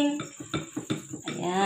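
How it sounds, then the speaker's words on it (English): Cassava cake batter with milk being mixed in a bowl, a quick series of soft clinks and scrapes of a utensil against the bowl in an uneven rhythm. "Keep on mixing po"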